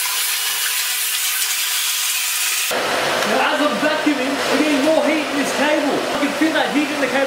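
Vacuum cleaner drawing almost 2,000 watts switches on partway through and runs with a loud, steady rushing whine, with a wavering, rubbing undertone as it works.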